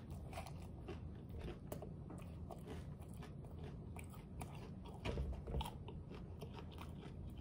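Homemade crunchy tacos being bitten and chewed up close, with steady crackling crunches of the hard shells that swell into a louder crunching burst partway through.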